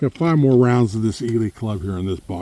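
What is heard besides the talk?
None of the usual background noises is heard.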